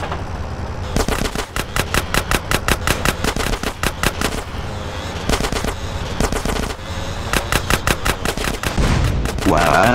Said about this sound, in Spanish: Smoke, no dejes de disparar, carajo.